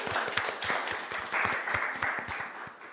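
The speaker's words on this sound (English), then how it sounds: "maybe a quick round of applause for Katie" An audience at a Hawaiian volcano talk claps with sharp individual hand claps clearly audible in a moderately quiet, steady round of applause lasting a few seconds.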